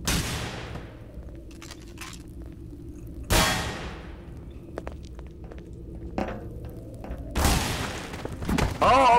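A gunshot in the game The Hidden rings out as a sharp, loud metallic crack with a decaying tail, among several similar bangs spread across the stretch, and faint voices between them.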